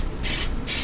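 Pam cooking spray hisses out of its can in two short, steady bursts with a brief pause between them, close and fairly loud, while cookies are being prepared.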